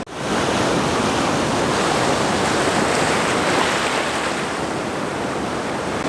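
Ocean waves rolling in on a cloudy beach, a steady loud wash of surf with wind noise on the microphone, continuous and close throughout.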